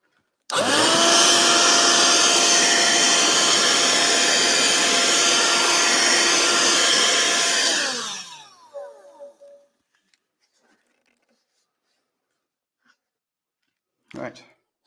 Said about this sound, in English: I'm just going to vacuum off that.